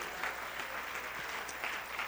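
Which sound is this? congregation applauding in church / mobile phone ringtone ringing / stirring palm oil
congregation applauding in church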